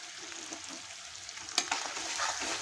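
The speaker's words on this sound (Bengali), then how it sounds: "দিয়ে নেড়ে পেঁয়াজটাকে ভেজে নেব।" Onions stirred and fried in a pan for gondhoraj chicken: a continuous crackling sizzle with scraping strokes and a sharp utensil knock midway, close and moderately loud, with no talk.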